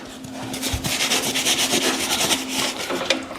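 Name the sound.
sanding wood furniture by hand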